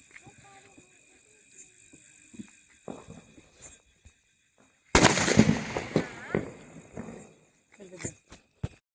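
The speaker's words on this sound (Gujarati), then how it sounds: "આપણે ફટાકડા લાવ્યા અને આપણે ફોડી છીએ." Diwali firecrackers go off outdoors: one loud, close blast sets off a burst of crackling, and a few sharp pops follow later amid quiet voices.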